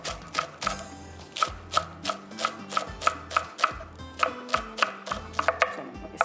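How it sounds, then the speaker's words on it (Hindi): Green spring onions chopped with a knife on a board: rapid, crisp, evenly spaced taps in quick runs with brief pauses, close and clear with no talking. "ये देखिए, हरी प्याज कटिंग करते हैं"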